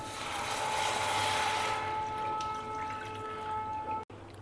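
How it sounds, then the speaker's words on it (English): Water poured into a pan of sautéed onions for a millet recipe, a bright splashing pour for about two seconds that settles into a quieter sizzle and trickle. "now we will add the required quantity of water to it"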